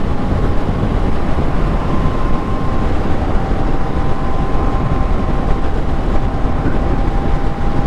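Moto Guzzi V7 Special motorcycle cruising at about 60 mph in sixth gear, a loud continuous engine drone mixed with heavy wind rush, steady throughout with no talking.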